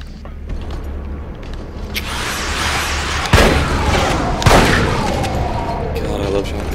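Shotgun blasts in the Resistance: Fall of Man video game, two sharp booming shots a little over a second apart, loud and close, over a constant low rumble of game noise and ambience.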